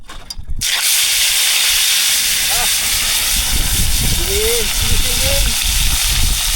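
Steady hissing sizzle of food frying in hot oil, continuous and close, with a few faint voice-like tones in the background.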